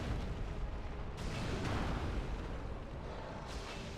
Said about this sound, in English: Oh, I'm getting bombed.